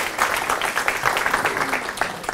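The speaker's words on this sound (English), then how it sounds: "Can we give a round of applause to those folks for all the work they did?" A round of applause at a Google Cloud startup program event: a room of people clapping with a dense, moderately loud patter that rises briefly and then fades slightly, with no voices over it.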